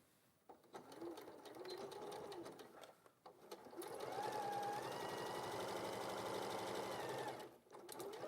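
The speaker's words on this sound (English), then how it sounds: "I'm going to put this together first and sew along the long edge" A sewing machine stitches a long straight seam along the edge of a fabric facing, running in two steady stretches with a brief pause between, close and moderately loud.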